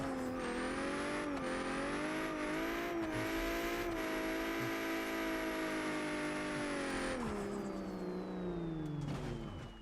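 A Ford Mustang's engine screams in a drifting racing sim game. The near-constant high-revving drone holds steady, then dips as the revs drop, with no talking over it.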